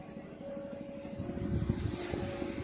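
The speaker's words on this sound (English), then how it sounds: "And a couple of helicopters." Helicopters drone overhead in a steady, fairly loud rumble of engine and rotor noise that swells slightly toward the end, with no talking.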